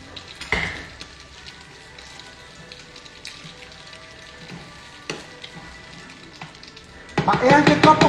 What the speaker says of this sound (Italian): ci hai messo l'olio, sta sfrigolando con l'olio